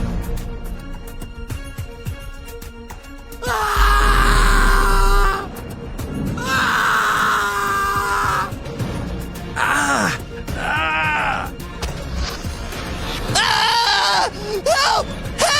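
A person screaming and groaning while calling for help in a hallway, heard as several loud, drawn-out anguished cries and moans in bursts over a dense, dramatic background.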